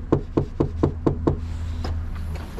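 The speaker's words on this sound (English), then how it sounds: "I'm gonna knock on the door though." Six sharp knocks on a front door during a delivery drop-off, evenly spaced and close, followed by quiet room background.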